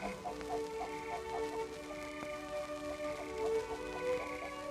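Faint, repeated clucking from a rooster over a steady low hum, the short calls coming in a loose rhythm at a distance.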